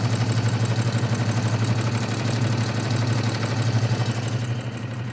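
A sewing machine runs steadily, stitching with a fast, even mechanical hum and rapid pulsing, loud and close throughout.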